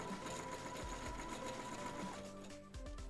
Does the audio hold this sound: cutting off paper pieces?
no